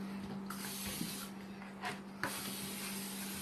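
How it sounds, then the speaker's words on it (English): A continuous hiss of an oil cooking spray coating a bowl, close up, with a few faint taps and clicks as it is moved around. "Spray your bowl."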